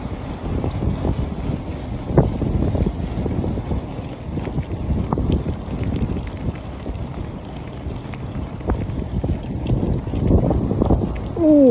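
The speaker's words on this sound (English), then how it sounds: "Oh, it's windy along here." Wind blowing along a canal towpath between Oldbury and Birmingham, a steady, close, gusty rumble buffeting the microphone for the whole stretch, with no talking.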